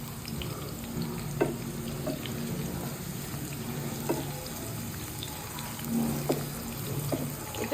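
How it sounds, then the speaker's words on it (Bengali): Two cups of chopped onions frying in lightly heated oil in a pot, a steady close crackling sizzle with occasional soft stirring knocks and bubbling pops throughout. "তেলটা হালকা গরম করে এটার মধ্যে পেঁয়াজ কুচি দিব"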